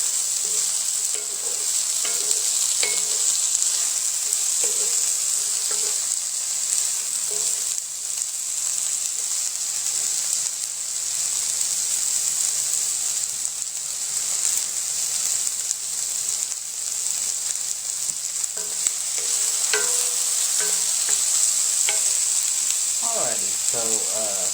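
Vegetables sizzle and fry steadily in a hot pan as prep for homemade enchiladas, a dense continuous hiss with occasional crackles and stirring, close and loud throughout.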